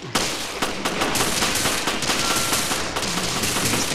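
Dense, sustained automatic gunfire fills a shootout in the video game Resident Evil Revelations, loud and continuous with rapid overlapping shots throughout.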